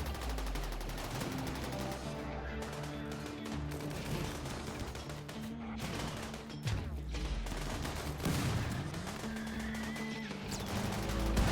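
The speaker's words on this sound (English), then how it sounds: "The Doomsday rocket launcher's going off" Doomsday rocket launcher firing during a big raid in the RimWorld video game, heard as a dense, continuous barrage of gunfire-like blasts and crashes layered over a steady game soundtrack, loud and relentless throughout.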